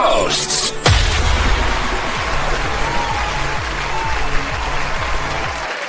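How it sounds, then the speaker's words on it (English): A studio audience bursts into sustained applause and cheering, loud and dense throughout, following a sharp opening hit. "Wow, listen to that crowd out there."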